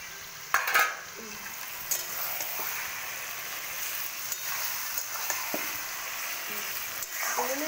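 Mutton lands in a hot pan with softened tomato, setting off a sharp sizzle and utensil clank, then a steady close frying hiss with occasional stirring scrapes.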